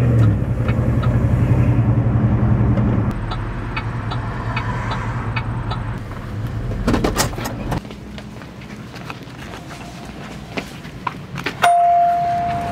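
A 1966 Jeep CJ5 drives along with a steady low engine rumble, followed by clanks, rattles and a short high tone near the end, with no talk.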